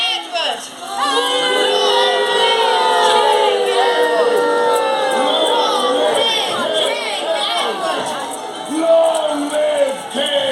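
A crowd at a live Wars of the Roses show at Warwick Castle cheers for King Edward, many voices shouting and hollering together in a loud, sustained roar that rises and falls.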